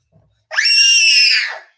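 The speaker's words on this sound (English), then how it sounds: "Don't scream at me." A person lets out one loud, high-pitched scream lasting about a second during a live watch-along of the Manchester United v Arsenal women's football match, with only a faint murmur before it.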